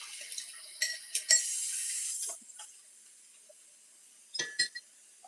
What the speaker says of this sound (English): I'm gonna rinse my cup.